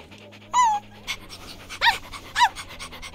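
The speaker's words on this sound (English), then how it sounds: "Pet the dog." Dog panting in the Minecraft Story Mode video game, short quick breathy bursts with a few higher whimpering squeaks, over a steady low game music bed.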